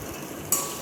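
Ginger and garlic paste frying with onion, green chilli and tomato for an egg and soya chunk curry, a close steady sizzle that jumps louder halfway through as the pan is stirred.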